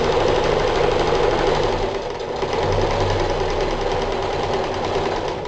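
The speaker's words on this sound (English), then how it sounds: "I think I have finally sorted out my sewing machine issue." A sewing machine runs continuously with a fast, even mechanical whir and rattle, steady throughout with a brief dip in the middle.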